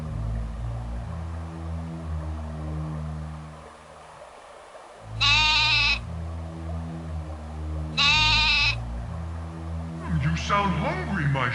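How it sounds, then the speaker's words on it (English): Two distinct sheep bleats from the MS-DOS game Wishbone and the Amazing Odyssey, each lasting about a second, ring out clearly over a steady low game music backdrop, with a brief voice entering near the end. "You sound hungry, my sheep."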